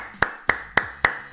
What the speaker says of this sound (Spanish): Aplaudimos a la vez el multiverso, chicos, el timing.